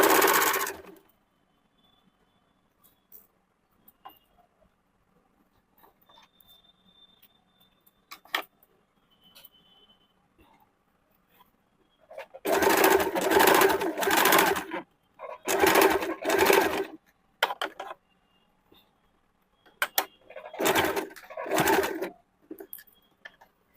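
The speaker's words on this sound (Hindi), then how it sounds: "पहले सामने वाले चाक को धीरे धीरे सिलाई करके 20 तक ले आएंगे।" A sewing machine stitches the side seam of a princess-cut kurti in several short bursts of rapid whirring, close and loud, with quiet gaps between runs and a few faint bird coos in the background.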